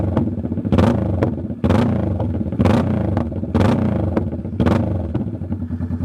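A Kawasaki Vulcan S fitted with a Two Brothers Racing exhaust and Power Commander V is revved hard in repeated bursts, about five loud, close blips separated by a rumbling, popping idle.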